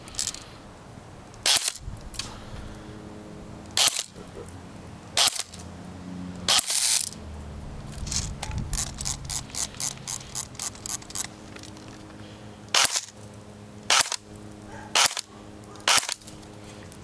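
Airsoft M4 rifle with a Madbull 6.03 barrel fired through a chronograph: single sharp cracks at spaced intervals, then a rapid burst of about a dozen shots, then more single shots, each with a mechanical clack, loud and close.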